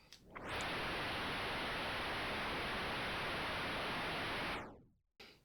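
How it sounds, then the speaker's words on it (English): Game Boy noise channel (channel 4) emitting a steady burst of random static-like hiss, loud and uniform for several seconds before cutting off abruptly, then a brief flicker of noise returning at the very end. "Channel 4 is the noise channel. It produces random noise, kinda like static."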